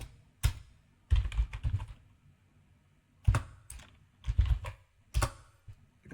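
Several short bursts of computer keyboard typing as a command is entered, with rapid clustered clicks separated by brief pauses, close and clear without any talk.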